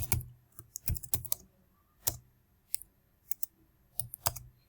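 Close computer keyboard typing as code is entered, irregular clusters of sharp key clicks with brief pauses, no talking.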